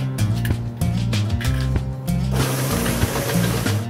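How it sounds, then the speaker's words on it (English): An electric mixer beating eggs into cookie dough for goji berry white chocolate cookies, a loud, close, continuous motor whir with rhythmic churning, heard alone. "we're going to add 2 eggs, one at a time, and we're going to beat them one at a time in there"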